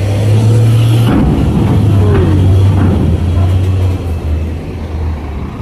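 Volvo trailer truck carrying steel plates at Merak port, a steady loud diesel engine drone with a low hum holding throughout, close by, with faint background activity.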